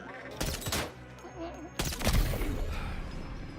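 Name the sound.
sniper rifle shots in a video game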